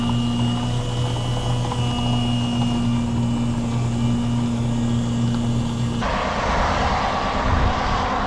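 A small airplane engine droning steadily near a private airport, heard from a road during a bicycle ride; a loud, sustained hum that shifts in tone partway through.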